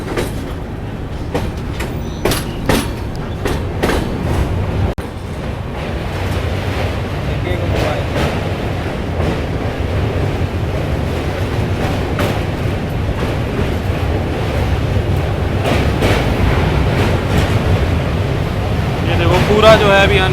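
Mithila Express on the Raxaul to Howrah run crossing a rail-cum-road bridge, heard from inside as a sustained loud rumble with sharp wheel clacks early on, while someone talks over the noise.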